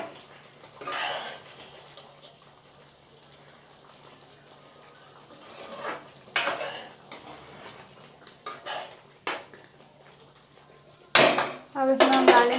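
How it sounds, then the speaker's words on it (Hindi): A covered pan of bottle gourd kofta is opened in a kitchen, with several clanks and clinks of metal lid and utensils against the pan between quieter stretches, ending in a louder rattle. "ये हमारा 5 मिनट हो चुका है, अब इसे खोल के देख लेंगे।"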